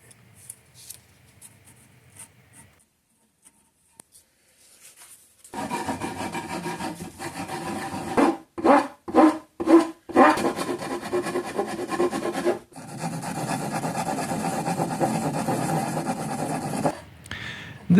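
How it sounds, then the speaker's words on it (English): A hand rasp files through the wood of a Metasequoia bonsai table, producing loud rough scraping strokes. Several quick separate rasps are followed by long sustained filing passes, heard close up with no talking. "you can see just how easily that rasp goes straight through the wood"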